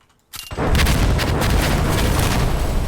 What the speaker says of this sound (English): that's how you chain explosions together